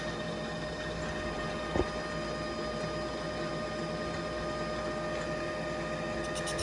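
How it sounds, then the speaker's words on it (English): Metal lathe turning a vacuum pump coupler with a carbide tool at about 500 RPM, a steady machine hum with whining tonal lines throughout and one brief sharp knock partway through. "I'm just gonna start whittling on this thing and try to make it the same diameter as that other coupling"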